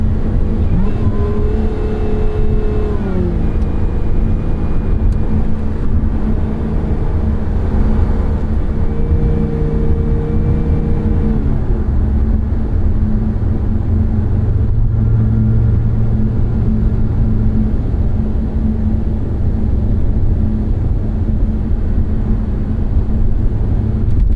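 A 2023 Lotus Emira in sport mode drones steadily at speed, its engine note rising and stepping through slow downshifts with rev changes, loud and close from inside the cabin, no talking.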